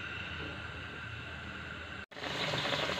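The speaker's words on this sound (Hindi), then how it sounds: "पानी पकना शुरू हो गया है," Water with mutton stock for yakhni pulao comes to a boil in a pot, a steady close hiss and bubbling broken by one brief cut before continuing.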